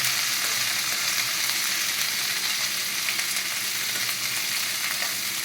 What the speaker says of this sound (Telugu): ఈ క్యాప్సికమ్ ముక్కలను వేసుకోవాలి. వేసుకొని బాగా కలుపుకోవాలి.